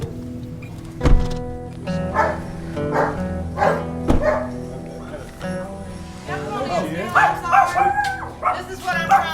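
A big dog barks and howls repeatedly at close range, loud yips and bow-wows in an uneven rhythm, with people talking around and over it.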